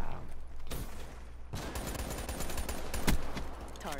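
Gunfire in Call of Duty 3 Gun Game multiplayer: a few sharp shots and short rapid bursts, fairly faint, over a low background hum.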